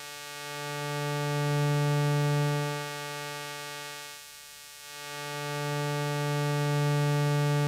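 Steady synthesizer tone passed through a high-pass filter, a bright buzzy drone rich in upper harmonics with thin low end, sustained and fairly loud, briefly dipping in the middle before returning, no voices.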